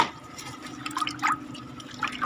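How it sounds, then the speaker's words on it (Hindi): Money plant leaves are swished and rinsed in a bucket of water, soft splashes and trickling drips rising faintly over a low background hum. "जितने मैंने लीव हैं इनको मैंने बाल्टी के अंदर डाल दिए हैं और पानी भी है बाल्टी में, तो ये पत्ते मेरे अच्छे से धुल जाएंगे"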